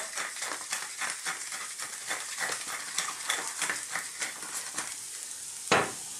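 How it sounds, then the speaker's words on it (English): Food sizzles and fries in a pan while being stirred continually, a steady crackling hiss punctuated by regular scraping strokes, ending in one louder clatter near the close. "Keep stirring all the time."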